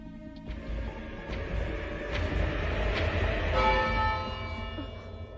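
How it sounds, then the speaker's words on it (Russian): A church bell in a zombie anime tolls in slow, regular strikes with long ringing overtones, layered over a low, rumbling ambient bed with no talking. "Колокол?"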